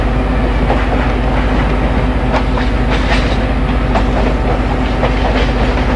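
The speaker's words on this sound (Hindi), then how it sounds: "यहाँ पे हमने एक फ्राइट ट्रेन को ओवरटेक कर रहे हैं, इस समय आप देख सकते हैं।" A train in Indian Railways Train Simulator on the Dibrugarh–New Delhi Rajdhani route overtakes a freight train, giving a loud steady rail rumble with rhythmic clickety-clack wheel beats throughout.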